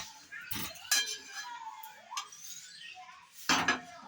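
A lid is set over a pot of Kashmiri dhoka, lentil cakes simmering in spiced gravy, giving a few sharp metallic clinks and clatters separated by quieter handling sounds.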